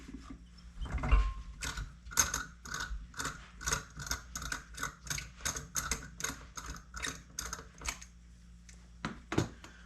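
A thread tap grinds abrasive grit out of the shaft threads on a Super 7 edger, giving about twenty close, evenly spaced ratcheting clicks with short gaps, then a few last scrapes.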